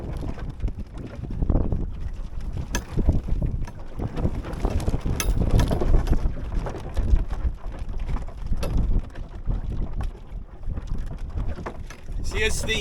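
Wind buffets the microphone while a small dinghy sails on Lake Ullswater, with rushing water, rigging rattles and hull knocks close by, gusty and continuous, and occasional voices in the background.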